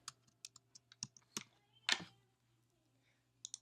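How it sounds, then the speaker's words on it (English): Quiet, close typing on a computer keyboard comes as a quick run of separate key clicks, followed by a pause and then two final taps. "I will click in the box and begin typing in my CPT code."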